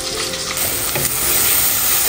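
Onions sizzle and fry steadily in a hot pan, a close, continuous crackling hiss with faint stirring, no voices.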